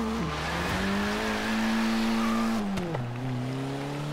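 A 2016 Abarth 695 Biposto accelerating in the racing game Forza Horizon 3, its engine droning loud and steady as it climbs through the revs, with a brief drop at a gear change before rising again.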